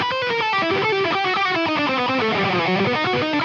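A distorted electric guitar plays a fast lick in E harmonic minor, a continuous run of quick notes at steady loudness, alone without talk.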